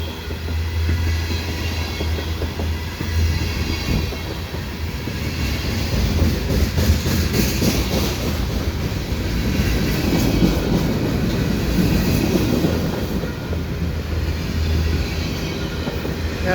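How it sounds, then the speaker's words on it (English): A CP freight train with two mid-train distributed power units rolls steadily past at night, a continuous heavy rumble with rhythmic clacking wheels and faint metallic squeals, loud and close. "There's another DPU in this train, so this is kind of a double train then."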